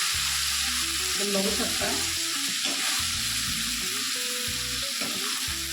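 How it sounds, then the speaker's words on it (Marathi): Onion, tomato, chili and a little coconut frying in oil in a kadhai, giving a steady hiss of sizzling with stirring clatter, while someone talks briefly over it. "आता हे चांगलं आपल्याला तेल टाकून कढईत भाजून घ्यायचं आहे।"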